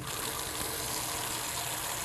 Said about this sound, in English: You will need to fill the bucket with warm water